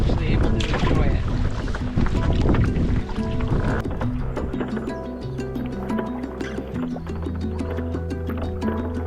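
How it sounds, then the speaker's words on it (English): Strong headwind buffets the microphone during a solo backcountry canoe trip on a lake, a loud continuous rumble with gusts, joined partway by steady low tones and faint water sounds. "the headwind is like brutal"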